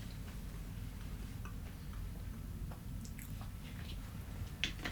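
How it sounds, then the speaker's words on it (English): Crunchy sweet snack chewed close to a microphone, soft irregular crunches and bites scattered over a low rumbling room background, with no talk. "Yeah, I hear them crunching."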